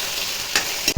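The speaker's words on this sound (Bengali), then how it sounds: "এখন এটাকে একটু ভেজে নেব" Dried phaisa fish, rinsed in hot water, fries in a pan with a steady, close, bright sizzle, broken by a couple of quick scraping stirs near the end.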